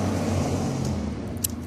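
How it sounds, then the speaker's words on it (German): A car drives past close by with a steady, loud engine and road roar that slowly fades. "Auto!"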